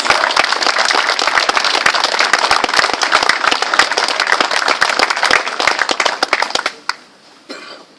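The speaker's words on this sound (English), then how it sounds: "give them a warm round of applause" Dense audience applause after a warm round is called for at an Orange Order gathering, steady clapping from many hands that fades out toward the end.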